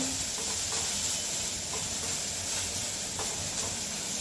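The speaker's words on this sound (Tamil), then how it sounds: "இப்போ இது சிம்லேயே வதங்கட்டும்" Okra sautés slowly in a pan over a low flame, giving a continuous soft sizzle and hiss with a few faint scrapes of stirring. The sound stays steady and close, with no talking.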